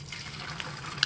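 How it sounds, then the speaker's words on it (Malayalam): Egg batter from a ladle goes into hot sunflower oil for Malabar mutta appam, a short liquid rush with faint crackling and a small bright pop at the end. "നല്ല ചൂടായ എണ്ണയിലോട്ട് നമുക്ക് ഒരു തവി ബാറ്റർ ഒഴിക്കാം."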